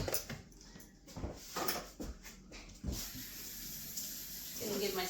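Tap water runs in a kitchen while a spatula is rinsed during carrot cake baking, a soft steady rush broken by brief splashes and clatters, fairly quiet throughout.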